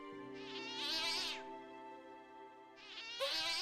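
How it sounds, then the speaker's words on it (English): A synthetic cat meow used as a sound effect in a video game, heard twice over a steady buzzing game tone, close and clear with no speech. "they used the cat noise."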